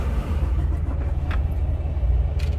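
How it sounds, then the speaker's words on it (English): A 2022 Freightliner Cascadia truck engine idles with a steady, low, continuous rumble, close by and without speech. "fire this thing up and let them hear how loud this thing rumbles"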